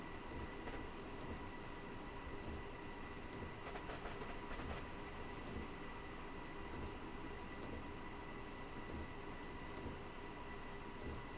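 A regional train on the Munich to Garmisch-Partenkirchen line rolls along steadily, heard from inside as a constant low rumble with faint rhythmic clicks from the rails, unbroken and without voices.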